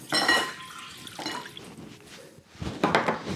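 Soy sauce and water are poured in turn for a jerky marinade, with short liquid splashes and drips, a light clink of a container, and brief quiet gaps between pours.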